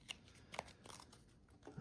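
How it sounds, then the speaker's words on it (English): A deck of playing cards shuffled for a solo dungeon crawl card game, heard as faint, close, brief shuffling and card-handling sounds in a few quick bursts. "I'm gonna shuffle the deck from my last match or my last game."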